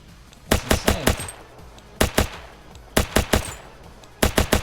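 Heavy-recoil gun firing in the video game Ancient Warfare 3: loud, sharp bursts of three or four rapid shots each, separated by short pauses, close and alone with no talking.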